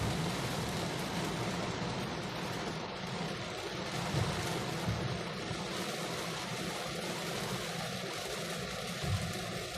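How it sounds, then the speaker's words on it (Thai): Steady, dense heavy rainfall roars continuously with a low rumbling undertone, heavy and unbroken throughout, heard from a stopped car. "ขาวโพลนไปหมดเลยฝนตก"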